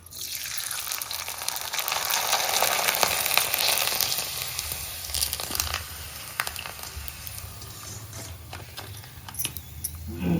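Dried sago papad is roasted in a pan over medium heat, giving a close rushing crackle that swells early, then settles into scattered pops and scraping.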